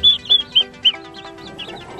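Young chicks cheep and cluck in quick, bright, repeated chirps, close and clear with no talking, as they are moved to a chicken tractor.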